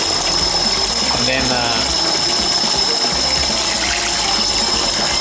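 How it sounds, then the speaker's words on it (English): Cold water pours and gushes into a small container in a kitchen while catfish fillets are being prepared. The loud, continuous rush of water runs throughout, with someone talking briefly over it. "I'm gonna put some cold water in this little container right here."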